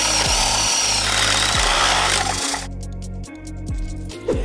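A power drill whirs steadily and loudly nearby while drilling holes in a car's wheel well, its motor pitch dipping and rising in several short surges as it works.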